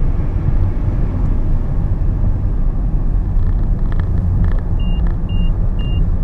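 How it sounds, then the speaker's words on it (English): A Honda Clarity fuel cell car accelerating hard on the Twin Ring Motegi test track, giving a steady, loud low rumble of road and cabin noise with a faint whine and a few soft high beeps near the end. "just like any electric car, all you hear is very quiet, and when you floor it, you only hear a whirring noise"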